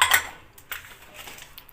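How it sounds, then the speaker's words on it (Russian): A small ceramic frying pan is handled after shopping in Turkey, giving a few light clinks and clatters, sharpest at the start and then a few softer taps, close and brief with no talk. "Купила себе такую керамическую маленькую сковородку."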